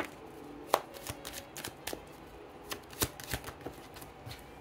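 Tarot cards are shuffled by hand before a single card is drawn. Soft riffling snaps and taps come close by in an irregular series of quick bursts, with no voices.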